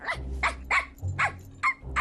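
Cartoon dog barking and growling in a series of about six sharp, loud barks, with a low growl rumbling underneath between them.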